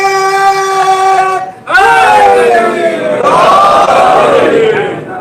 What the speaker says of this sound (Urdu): ہم سب کی مشکل حل کرو، مشکل کشا علی.